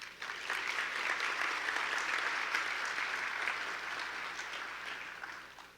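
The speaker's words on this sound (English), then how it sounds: "That deserves a round of applause." Applause fills a hall at a black-tie scholarship gala, a sustained crowd of hands clapping that swells quickly, holds, then tapers off over several seconds.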